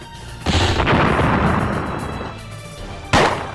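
Gunshots in the Toss The Turtle video game, two loud booming blasts: the first rolls into a long fading rumble, the second lands sharply near the end; no talk.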